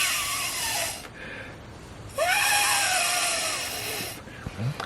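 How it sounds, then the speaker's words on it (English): Hard breaths blown through a metal straw onto reinker, two long rushing hisses one after the other, each lasting a second or two, close and fairly loud. "I'm just going to blow really hard into it"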